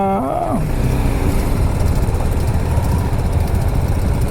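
A motorcycle running on reserve fuel idles with a steady, low, throbbing rumble after a brief tonal sound at the start, in hot weather around 47 degrees.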